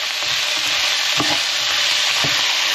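Lamb in Thai red curry frying in a pan, a constant loud sizzle with a few soft stirring scrapes and knocks of the spoon rising above it, close up and without speech.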